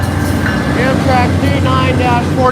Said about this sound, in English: D9-44CW. Oh, listen to that GE whoop.